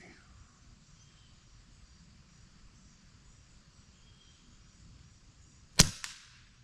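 A single sharp crack of an Avenge-X air rifle shot at an outdoor shooting bench, sudden and near after a long quiet stretch of faint crickets and insects, followed by a brief echo.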